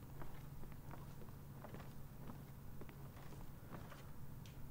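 Footsteps in an Elder Scrolls video game, a steady run of soft, near steps over a continuous low hum and ambient noise, with no talking.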